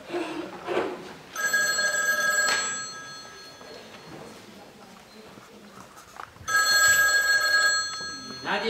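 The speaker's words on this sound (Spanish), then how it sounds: "Nadie toma el teléfono. Hace rato que suena." An old-style telephone bell rings during a stage performance of Buero Vallejo's La fundación, two long, loud ringing bursts separated by a quieter stretch, with actors' voices heard around them.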